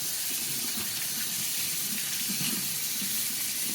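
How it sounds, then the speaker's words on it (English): Running tap water gushes steadily as a cornhole bag is rinsed underneath, a continuous hiss and splash at close range with no talking. "Let's rinse this thing off."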